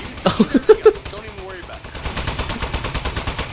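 A gun in the video game Aperture Desk Job fires a quick burst of five sharp, loud shots, followed by a faster run of lighter, rapid repeated shots, while someone talks excitedly over them.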